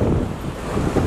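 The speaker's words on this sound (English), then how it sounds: "as you can probably hear or see from the wind" Strong storm wind roars straight into the microphone, a dense, loud, unbroken rush with no other sounds over it.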